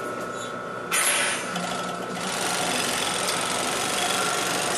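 An overlocker stitching and trimming the side seam of a skirt runs as a steady, close mechanical whir, with a sharp louder surge near the start before settling into an even hum.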